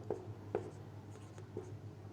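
Chalk or marker writing on a board during a maths lesson, a few faint taps and strokes spaced apart, quiet and close, with no talking.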